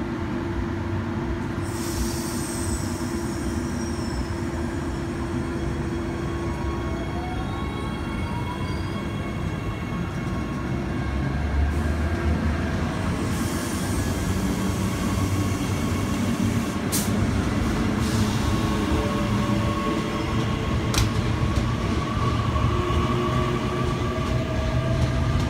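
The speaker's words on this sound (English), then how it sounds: "Departing Roma Street platform 8, we have SMU 238 leading an Ipswich service." SMU 238 electric train leading an Ipswich service out of Roma Street platform 8, a loud steady rumble of wheels and motors with squealing rails and faint clickety-clack, with no voices.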